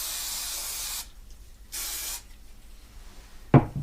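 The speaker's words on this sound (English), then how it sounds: "I'll just take my adhesive and spray a little bit on there." Two short hissing bursts from a spray can of adhesive, each about a second long, followed by a small clunk.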